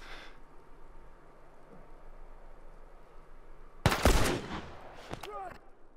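Gunfire in The Last of Us on PS4: after a quiet stretch, a sudden loud burst of rapid shots cracks out, then a couple of quicker, fainter follow-up shots close by.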